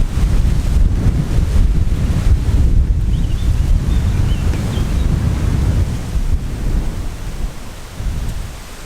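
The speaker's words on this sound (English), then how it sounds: "Bit windy though." Strong wind by the sea buffets the microphone in loud, continuous rumbling gusts, with a roar like surf underneath, easing slightly toward the end.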